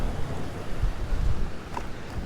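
Water rushing along a mountain stream between Maderno and Toscolano, a steady broadband wash with wind buffeting the microphone, continuous and fairly close, no talking.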